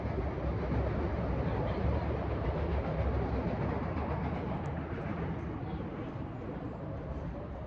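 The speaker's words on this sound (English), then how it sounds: "Got a train in the background." A train passes in the background outdoors, heard as a steady broad rumble that holds through the whole stretch and eases off slightly near the end.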